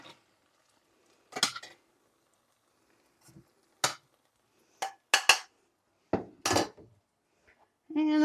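Cooked steak pieces lifted from a pan into a bowl: a series of separate clinks, scrapes and knocks of utensils against cookware, spaced by quiet gaps, with a voice coming in at the end.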